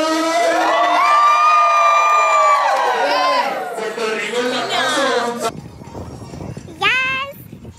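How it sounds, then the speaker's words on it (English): A crowd of people screams and cheers loudly together for several seconds, then the shouting fades into scattered voices and one more brief whooping cry. "you're gonna scream when I ask for the mojito"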